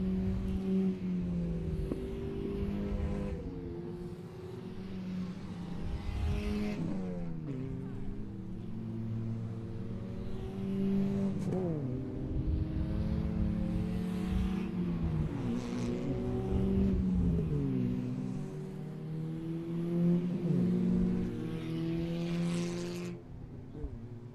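Race cars weave around a circuit to warm their tyres, their engines droning and revving loudly throughout with rising and falling pitch sweeps as cars pass close by.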